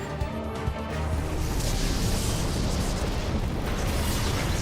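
Explosions during the Diamond Weapon battle in the video game Final Fantasy XIV, a dense, continuous rumble of blasts and booms filling the mix without letup.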